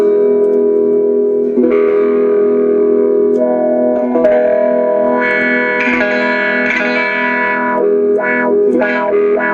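Distorted electric guitar through a Donner/Mooer mini wah pedal, the tone rising and falling as sustained notes ring out, loud and close with no talking.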